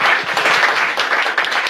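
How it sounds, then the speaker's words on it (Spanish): Brief, dense applause from an audience at a pre-congress discussion event, with many hands clapping steadily and loudly throughout. "un fuerte aplauso por la organización de estos eventos que hoy se están presentando"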